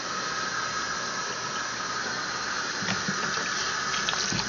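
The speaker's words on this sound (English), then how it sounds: "we're going to go ahead and add warm water" Warm water gushing steadily into a bucket, filling toward 5 gallons for wine making, a constant close rushing stream with faint clinks near the end.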